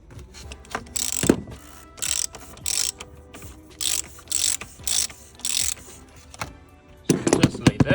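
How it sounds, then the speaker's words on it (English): Ratchet with a 27 mm socket turning the oil filter housing on a BMW 320d F30, sharp bursts of rapid clicking in repeated strokes separated by brief pauses, close by. "you will need a 27 mil socket, as you can see right there, to remove the housing"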